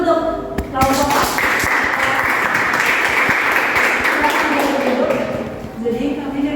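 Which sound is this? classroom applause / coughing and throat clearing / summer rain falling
classroom applause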